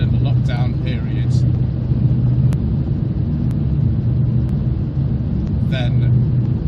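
A 2013 Mini Cooper SD (R56) driving along a road, heard as a loud, steady cabin rumble of engine and tyre noise that never lets up, with a few faint voice fragments on top.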